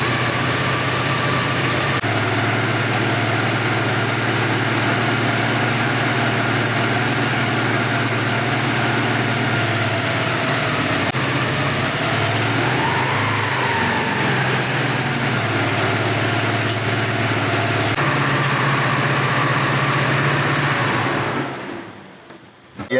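A car idling after a new DME computer was fitted, a steady low engine drone with a brief wavering stumble midway, loud and close, before the engine is shut off and the sound drops away.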